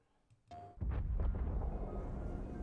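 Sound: explosion sound effect

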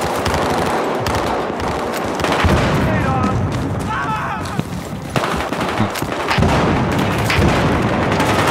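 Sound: frag grenade thrown and exploding in Battlefield Hardline, video game

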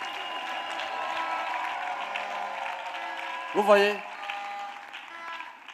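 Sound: congregation applauding and acclaiming

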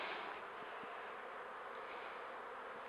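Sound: bees knocked off a hive frame

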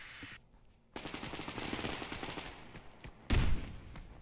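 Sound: gunfire in video game Survarium

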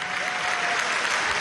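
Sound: audience applause for Mother Africa

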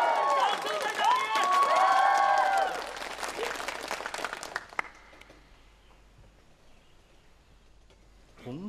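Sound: audience applause

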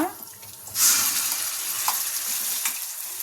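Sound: ground cucumber tomato chutney frying in tempering

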